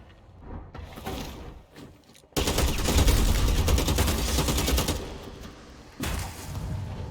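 Rapid automatic gunfire bursts in the vampire battle royale game Bloodhunt, loud and sustained with dense overlapping shots, dropping briefly then resuming, with no talk.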